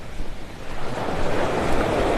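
Surf washing onto a beach in North Naples, Florida, a broad rushing roar that swells and grows steadier, with some wind noise mixed in.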